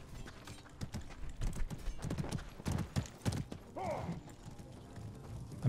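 Horses galloping during a Mordhau video game match, steady clip-clop hoofbeats with a brief whinny partway through, moderately loud amid battle noise.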